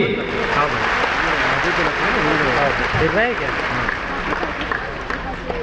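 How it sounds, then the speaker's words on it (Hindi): Audience applause at a large Hindu religious gathering, a dense continuous wash of clapping and crowd noise with voices calling out over it. "बजाओ ताली"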